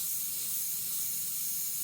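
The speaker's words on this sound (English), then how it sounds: "I'm going to spray right in here now" An Iwata Micron SB custom airbrush sprays Createx Illustration Colors onto Blair synthetic paper, a steady close airy hiss held continuously without pauses, no voices.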